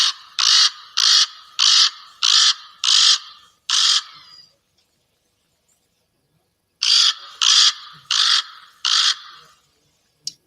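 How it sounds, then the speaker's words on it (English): Raven calling in summer: a run of six loud, harsh croaking caws in steady rhythm, then a few seconds of silence and another series of four or five caws, close and clear with no talk. "So here's a call of a raven."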